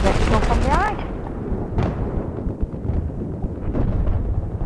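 Battlefield 4 gunfire: a rapid burst of close automatic shots followed by scattered heavier booms and rumbling combat noise.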